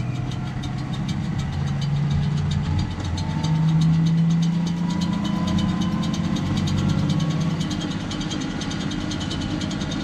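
A farm machine engine revs steadily to make a grass silage bale, a loud continuous mid-pitched drone with rising and falling tones throughout.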